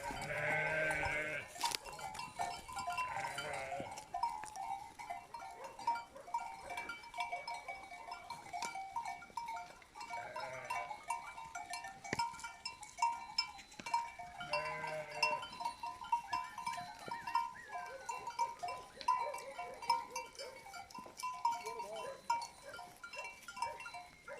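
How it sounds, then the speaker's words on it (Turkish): Sheep and lambs in a flock bleat intermittently in March, with scattered short calls, some nearer and some farther, over a quiet outdoor background and no talking. "2023 yılının Mart ayındaki koyunlarımız ve kuzularımız"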